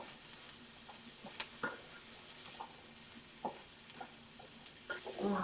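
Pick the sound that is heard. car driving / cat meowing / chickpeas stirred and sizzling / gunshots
chickpeas stirred and sizzling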